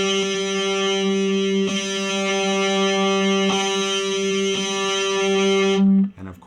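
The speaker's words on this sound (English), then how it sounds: "in this overdrive, it's called an overdrive or a distortion channel" A sustained electric guitar chord through an amp's overdrive channel rings out, struck again a few times, each strum buzzing with thick distortion before cutting off.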